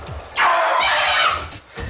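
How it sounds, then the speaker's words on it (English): A frightened person lets out a loud, sustained high scream lasting over a second, harsh and piercing, rising abruptly and cutting off, with scuffling noise around it. "There's no playing that scream off."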